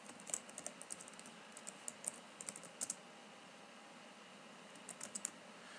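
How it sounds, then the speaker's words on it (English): Faint, steady typing on a computer keyboard during a Microsoft Word lab: light, irregular key taps in small clusters over a low background hiss, with no voices. "I will just type the University of Minnesota."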